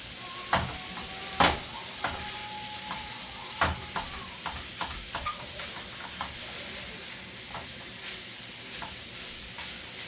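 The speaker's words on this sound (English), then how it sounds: "I think I could mix it up with the spatula now" Spatula stirring a cabbage roll filling of sausage, rice, carrots and onions in a hot pan, with light sizzling under several sharp scrapes and clacks of the spatula, close and without voices.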